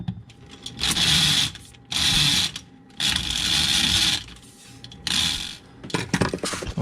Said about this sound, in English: little ratchet action going there